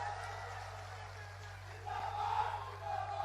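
A crowd at a political rally in Jagdishpur, Amethi, roars and cheers in a brief, fairly distant burst, swelling a little toward the end under a faint public-address hum.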